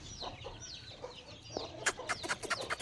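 A farmyard chicken clucks repeatedly in short, uneven bursts at moderate distance, with a cluster of sharper clucks toward the end and no talking over it.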